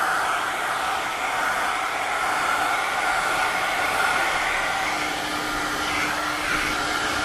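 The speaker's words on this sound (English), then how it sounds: "But just simply by blow drying, if it's cut correctly, and we blow dry it correctly." A hair blow dryer on full air pressure and highest heat runs steadily, a loud continuous rushing whoosh of air held at an even level throughout with no talking.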